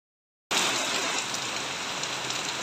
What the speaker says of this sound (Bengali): Just dekho ki sundor brishti porche.